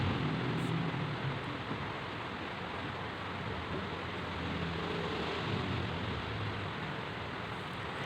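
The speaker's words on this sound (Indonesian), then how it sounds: "Waktu hujan ini, hujan petir." Heavy afternoon rain pours steadily over a street in Wonosobo during a thunderstorm, with a dense constant hiss and low rumbling of thunder underneath throughout.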